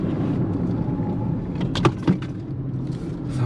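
A camera tips over inside a Tata Tigor EV during hard braking, giving a couple of sharp thuds and clatters over the low, steady road hum of the cabin.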